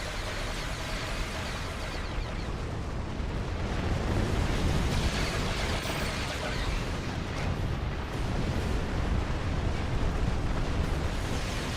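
Sustained, rumbling explosion of destroyed octahedra in the Star Trek Online space battle game, a loud continuous roar with layered crackling bursts that swells and holds across the whole stretch.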